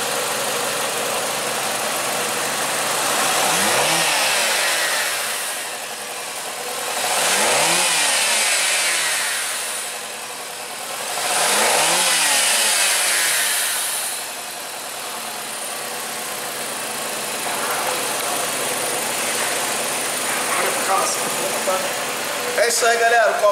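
A Nissan Sentra 2.0 engine revs three times in succession, each rise climbing sharply and falling back to a steady idle, close and loud with no talking over it.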